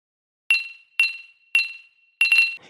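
Coin pickup sound effect in an Unreal Engine 5 game, a bright, glassy chime repeated four times at short intervals, the last one a quick double ring that fades out, clean and close.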